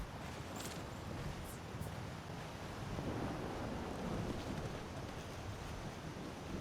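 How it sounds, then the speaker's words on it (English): Steady rumbling thunder and wind noise from a Skyrim outdoor scene during a dry storm, a continuous low roar filling the background with no rain heard. "Wouldn't want to stay out here in the thunder any longer than needed, even if there is no water coming down."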